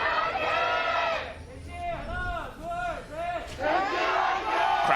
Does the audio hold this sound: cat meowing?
no